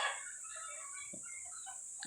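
Healthy backyard chickens cluck softly at a distance over a constant high electronic whine, a few brief low calls scattered through; no talk.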